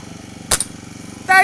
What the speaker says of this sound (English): That's how you shoot them pellets.